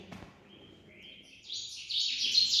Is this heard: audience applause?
no